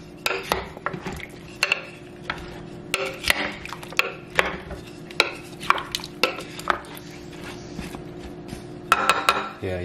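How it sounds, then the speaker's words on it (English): Ingredients being stirred in a crockpot for a cheap, easy family meal, with repeated scraping and clinking of the spoon against the pot in an irregular rhythm, close and moderately loud, with no talking. "now that everything's in there, you can kind of give it a little stirring"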